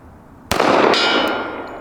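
A 1911 pistol shot strikes a steel ram target: one sharp loud crack with a metallic clang that rings out and slowly fades.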